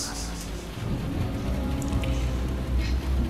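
Heavy rain as a radio drama sound effect, a thick, steady wash of falling water with a low rumbling undertone, close and continuous.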